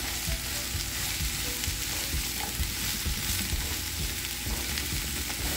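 Vegetables with squash sizzling and frying in a pan for a gratin, a steady dense crackle with stirring scrapes running throughout, close and fairly loud with no voices.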